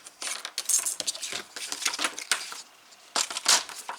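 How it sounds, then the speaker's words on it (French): A paper strip for a Valentine's star album is cut close up, giving a run of crisp snipping and crunching strokes in irregular bursts, with a short pause before a final few cuts. "ici je coupe"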